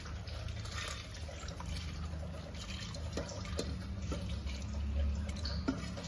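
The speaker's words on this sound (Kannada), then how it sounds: "ಜಾಸ್ತಿ ನೀರು ಹಾಕ್ಬಾರ್ದು, ಸ್ವಲ್ಪ ಹಾಕೋಬೇಕು. ಅದು ಬೇಳೆ ಮುಳುಗೋ ಥರ ಒಂದು ಸ್ವಲ್ಪ ಹಾಕೊಳ್ಳಿ." Water is poured over half a kilo of washed lentils in a pressure cooker at home, a soft steady splashing and trickle under a low background hum that carries on for several seconds.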